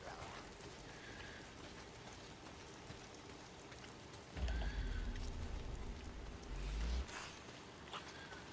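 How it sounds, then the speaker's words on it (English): Steady rain hiss fills the scene in the video game Days Gone, with a louder, heavier downpour burst swelling in the middle before easing back to a constant patter. "Oh, damn rain. If it's not the freaks, it's the goddamn rain."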